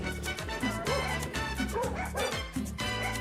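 Dogs in The Sims video game give a run of quick, cartoonish yipping barks and whimpers, repeated over steady background game music.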